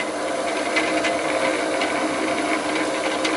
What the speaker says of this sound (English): Oh man, I like drilling through aluminum.